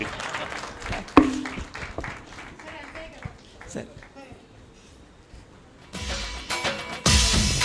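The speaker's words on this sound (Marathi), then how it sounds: "टाळ्या वाजून सर्वांनी सन्मान करीत आहोत." An audience applauds to honour guests at a Kumbhar community gathering in Nalasopara. Speech dominates early on, then a burst of dense clapping rises near the end and grows louder.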